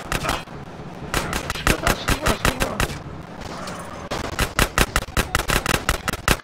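Rapid gunfire bursts in GTA San Andreas as a player shoots at a car, sharp repeated shots in quick rhythmic volleys with brief pauses, loud and close throughout.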